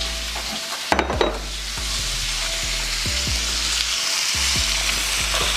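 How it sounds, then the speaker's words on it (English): Ground beef and Italian sausage sizzle in a hot pan for spaghetti, a steady loud crackling hiss with occasional light knocks and scrapes from stirring. "let's just go ahead and add our ground beef and our pork, or our Italian sausage"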